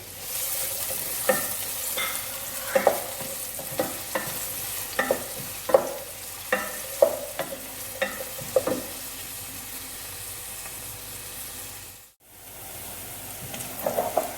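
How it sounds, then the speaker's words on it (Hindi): Finely chopped onion fries in a pan toward light brown for Punjabi kadhi pakora, a soft continuous sizzle with repeated spoon scrapes and taps, quieter and calmer near the end. "अब इसके अंदर बारीक चॉप की हुई 1 अदद प्याज जाएगी और इसे हम लाइट ब्राउन होने तक पकाएंगे।"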